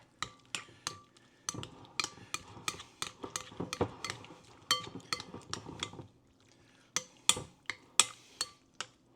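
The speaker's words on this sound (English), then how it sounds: "tails, some of that poaching liquid, in with the mayo. Give this a quick stir." Langostino tails with poaching liquid and mayo stirred in a bowl, a quick series of close, sharp utensil taps and scrapes against the bowl, briefly pausing then resuming with several more clinks.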